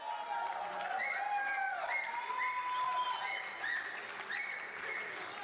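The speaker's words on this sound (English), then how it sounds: "Now, hold your applause" An audience claps and applauds at a cricket club gathering in Toronto, a continuous spread of handclaps running under a speaking voice.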